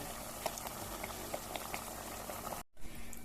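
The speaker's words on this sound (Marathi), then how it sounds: "आतां इल्लें उदक घालुया भितर" Water goes into a pot of ground masala curry, giving a steady, close bubbling, gurgling liquid sound for about two and a half seconds before a brief cut and more of the same.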